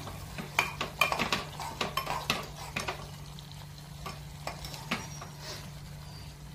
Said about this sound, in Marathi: आणि आता याच्यानंतर हे छान फिरवून घ्यायचं।